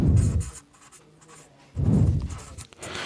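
Chalk or marker strokes on a classroom board during a Class 12 maths lesson on relations and functions, two bursts of scratchy writing separated by a short pause, close and fairly clear.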